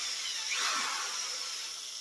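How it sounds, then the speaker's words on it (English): A power drill runs continuously as the bit is worked up and down through drilled holes to clean them out, a thin steady high whine at moderate level with no talking. "just kind of ride the drill up and down the holes. Just kind of clean them up"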